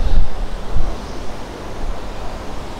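A swollen river close to bursting its banks rushes fast, giving a loud, steady broadband roar mixed with wind buffeting on the microphone, and no talk over it.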